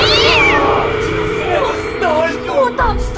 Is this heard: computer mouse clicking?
no